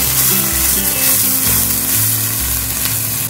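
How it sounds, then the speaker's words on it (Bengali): Loud, continuous sizzling of tomato and ginger paste frying in a pan for Bengali chicken kosha, with intermittent scraping strokes as it is stirred. "এবার হালকা নাড়াচাড়া করে আমার মা আদা বাটাটা দিয়ে দিচ্ছে।"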